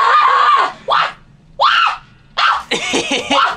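A person lets out several loud, shrill screams in short bursts separated by brief pauses, delivered on request as an impression of someone's scream, close to the microphone with no other sound.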